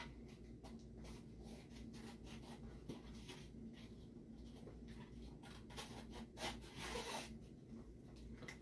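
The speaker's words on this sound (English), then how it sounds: "I love the sound of scissors cutting through stuff." Scissors cutting through paper for a vintage-style pumpkin treat box, a close, soft series of rasping snips and slides, fairly quiet and steady.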